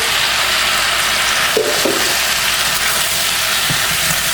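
Beef strips with onions and peppers stir frying in a pan, a steady broadband sizzle throughout with a few brief clinks of stirring.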